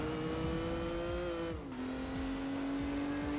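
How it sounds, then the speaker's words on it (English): A flat inline-six car engine from Gran Turismo 4 holds a steady high drone, dipping briefly as if shifting gear before settling back to a sustained tone, with no talk over it. "It sounds like a flat inline 6."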